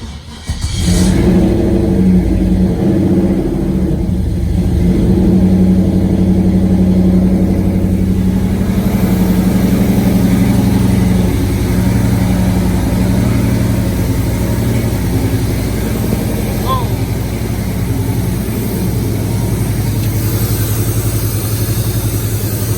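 A 6.0-liter drive-by-wire engine swapped into a Nova fires up for its first cold start and keeps running, a loud, steady low rumble with a rough, uneven idle throughout, close up.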